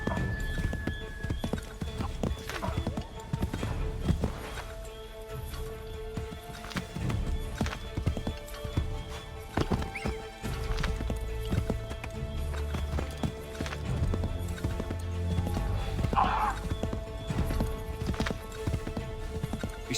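Hoofbeats of a galloping horse in the Assassin's Creed 3 video game, a steady clattering rhythm running throughout over busy game sounds and a brief whinny-like call near the end.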